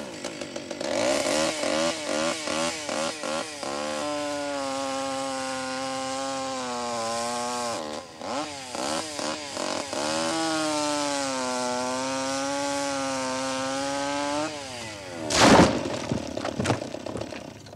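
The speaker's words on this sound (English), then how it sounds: "if you're working up the tree with a chainsaw, make sure that you've got a safety harness on" A chainsaw cuts wood up a tree, revving and bogging in repeated bursts with rising and falling whine, loud and close, with a sharp crack near the end.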